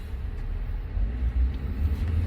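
Inside a moving car, a continuous low road rumble and engine drone rise and fall slightly throughout, with no talking.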